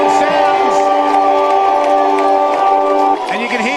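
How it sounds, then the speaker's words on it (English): Football crowd at a country preliminary final between Moe and Traralgon roaring after the final siren, a dense sustained cheer with a strong steady siren-like tone for about three seconds, under a commentator's voice. "you can hear the crowd in front of us"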